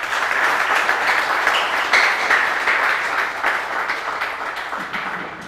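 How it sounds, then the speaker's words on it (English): Round of applause at a polytechnic embedded systems and robotics event, a dense steady crowd clapping that stays loud throughout and tapers slightly at the end. "So I want to give another round of applause for this action."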